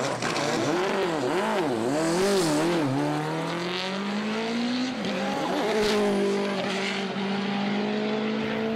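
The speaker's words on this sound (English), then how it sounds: "power his 800 horsepower Fiesta to the top in just under 11 and a half minutes" An 800-horsepower Ford Fiesta rally car with a turbo racing up Pikes Peak, its engine loud and close, rising and falling through quick revs and gear changes, then a long pull with a sustained climbing note and some tire noise.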